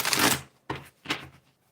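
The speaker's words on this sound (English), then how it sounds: "right, I'm shuffling the deck." A deck of small pop cards being shuffled, giving one long riffling burst followed by two shorter riffles, close and fairly quiet, with no talk over it.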